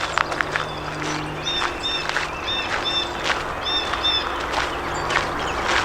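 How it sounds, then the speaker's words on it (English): Several birds chirp in short, bright repeated phrases over steady outdoor background noise along the Delaware Canal, with a faint mechanical hum of distant construction low underneath. "but beautiful birds singing everywhere"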